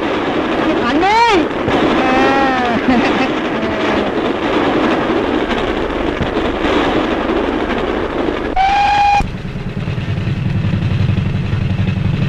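A train rumbles along with loud clattering in an old Tamil film, and a horn sounds in rising-falling blasts, then a steady tone; voices shout briefly over the noise.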